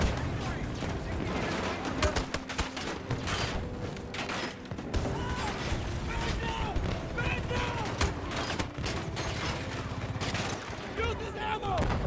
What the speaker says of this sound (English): Is somebody shooting at me